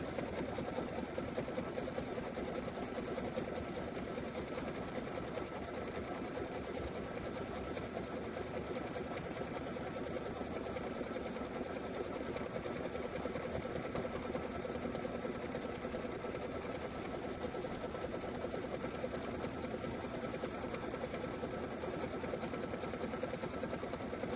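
A home sewing and embroidery machine stitches the outline around a pillow block, running a steady, continuous mechanical hum and rapid needle chatter throughout with no pauses.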